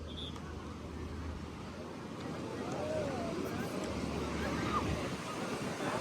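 Rough, churning sea surf at a crowded Goa beach, a steady broad wash of breaking waves with wind buffeting the microphone, continuous throughout and slightly louder in the second half.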